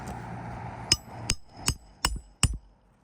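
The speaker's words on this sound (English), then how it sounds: "that's why I'm using these tools to nail it." Five sharp, evenly spaced hammer blows drive nails into a roof shingle during a repair, each strike crisp and close with short ringing decay, following a brief stretch of background hum.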